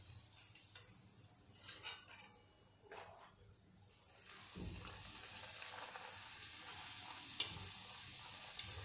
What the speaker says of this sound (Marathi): आणि हा गरम तेलातच तो खाजा तळला जातो